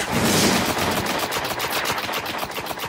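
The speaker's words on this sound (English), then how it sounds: "It is auto rifle." Rapid automatic fire from an auto rifle in a video game, a loud dense burst of evenly spaced shots that runs throughout with no talking over it.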